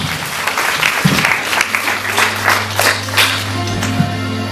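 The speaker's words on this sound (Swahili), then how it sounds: "Pigie Bwana Yesu makofi." A church congregation claps and applauds steadily throughout, a loud, dense crowd of hands with a low hum beneath.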